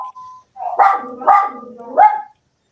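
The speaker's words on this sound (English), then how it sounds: "Whose guard dog is that?" A guard dog barks three times in a close, loud, evenly spaced series, with a faint whine just before the barks.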